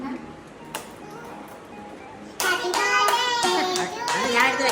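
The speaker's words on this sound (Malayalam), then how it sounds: "എല്ലാവരും ക്ലാപ്പ് എടുക്കണം." Children clap together at a small certificate celebration, a sudden burst of lively applause breaking in after quiet chatter and continuing to the end, with children's voices mixed in.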